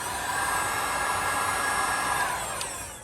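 A steady, loud blowing hiss from a heat gun shrinking a clear sleeve over a soldered two-core cable joint, continuous and close throughout.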